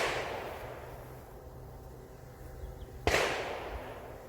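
A single sharp gunshot cracks at an outdoor shooting range during live-fire practice, preceded by the tail of another shot fading out, with a quiet ambient pause between them.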